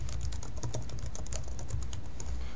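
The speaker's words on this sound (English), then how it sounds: "and then the student would then type in text." Steady, fast typing on a computer keyboard while text is entered into an online editor, with dense overlapping key clicks running continuously and close up, no voices.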